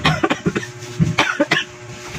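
A rapid series of harsh coughs, several bursts in quick succession, close and fairly loud.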